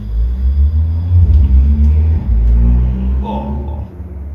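Street traffic rumbles in from outside during an RC Formula 1 model build, a loud low droning wash of passing vehicles with a deep engine hum and some faint higher scrapes, steady throughout.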